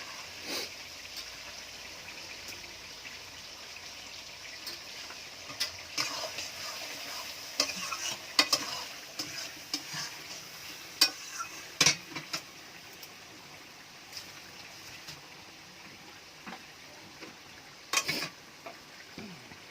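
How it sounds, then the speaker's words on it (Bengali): Steady frying hiss with scattered louder pops and scraping clicks, like potatoes and onions cooking and being stirred in a pan, no voices. "আলু আর পেঁয়াজ ভাজা হচ্ছে"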